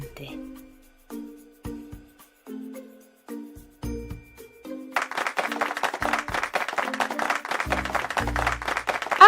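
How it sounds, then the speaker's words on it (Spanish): Hands clapping in a dense burst of applause-like claps, close and steady, following a stretch of soft plinking background music. "Aplaudir."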